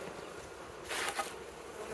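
A faint, steady honeybee buzz swells briefly in the middle, bees humming close by at a hive against a quiet background hiss.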